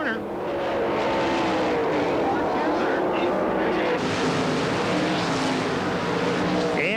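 Sprint cars roaring off a corner at Las Vegas Motor Speedway during a World of Outlaws race, a loud sustained engine howl with shifting pitch as cars pass, under a commentator's voice.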